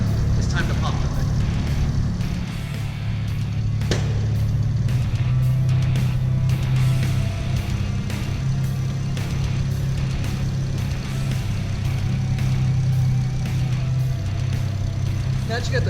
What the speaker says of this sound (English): It's very, very common with the 2JZ to have some noisy injectors.